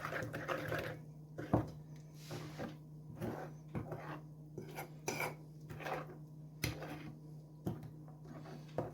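A spoon stirs a pork jerky marinade with honey in a bowl, giving irregular soft clinks and scrapes against the sides. The sound is close but quiet, with no talking.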